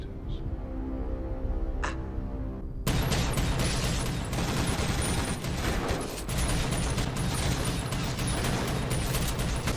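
Sci-fi gunfire from a Stargate SG-1 battle against replicators: after about three seconds of near quiet, a loud, dense, unbroken fusillade of rapid shots takes over and keeps going to the end.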